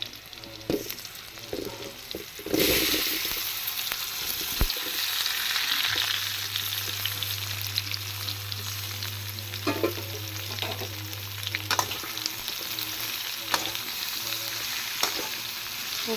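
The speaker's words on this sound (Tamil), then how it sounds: "அதை போட்டு அப்படியே கொஞ்சம் கொஞ்சமாக அப்படியே எண்ணெயில் பரட்டி வைக்கணும்." Spice-marinated baby potatoes coated with salt, chili powder and turmeric drop into hot oil, bursting into loud sizzling that settles into a steady close fry, with occasional scrapes and clinks of stirring.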